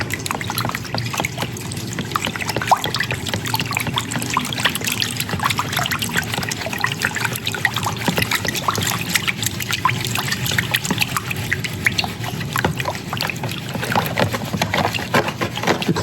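Water trickles and sloshes continuously as a gold pan is worked underwater to separate fine flour gold, with soft splashing and small scraping sounds and no talking.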